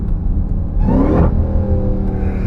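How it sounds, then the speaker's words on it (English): Supercharger whine from a 1000 HP Jeep Grand Cherokee daily driver: a steady loud engine rumble with a rising whirring whine as the engine revs up briefly, then settles, heard close from inside with no talking. "The blower whine is so crazy."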